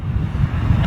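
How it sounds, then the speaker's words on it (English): Strong gusting wind at London Heathrow Airport buffets the microphone, a loud, rough low rumble that surges unevenly for a brief moment with no voices. "It was supposed to be around about between 45 and 47 mile per hour winds here at London Heathrow this afternoon, and we're certainly experiencing some gusting"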